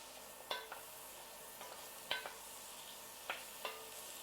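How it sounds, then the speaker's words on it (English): Vegetables sizzling in fat and butter in a pan for braised short ribs are stirred, with a steady frying hiss broken by several sharp spoon scrapes and clinks, near and moderately loud, no talking. "We're going to give those a stir and let those start to soften."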